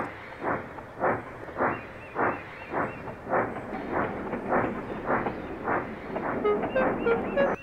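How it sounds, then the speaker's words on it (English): A steam train chuffs along a railway with a steady, evenly spaced rhythm of exhaust beats, moderately close, with a few faint whistle-like tones near the end. "Douglas had to take the train."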